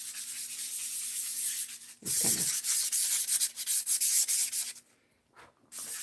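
Nail sanding block worked with its rough side, a dry scratchy rubbing that runs steadily for two seconds, then continues in short stroke bursts and trails off to near silence before one more stroke.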